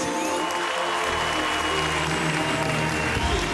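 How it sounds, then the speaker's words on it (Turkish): Applause from a concert audience at a New Year's show, dense and steady, with music tones and crowd noise running underneath. "için bir alkış."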